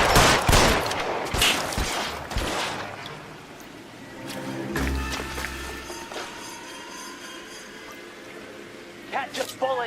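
Gunfire in the video game LA Noire, a burst of loud close shots early on followed by scattered rattling fire and clatter, with a voice speaking over part of it.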